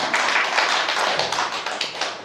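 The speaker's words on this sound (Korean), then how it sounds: "박수 쳐야 돼요, 빨리" A church congregation applauds at an anniversary thanksgiving service, a dense steady patter of many hands clapping throughout, fairly loud and sustained with no voices standing out.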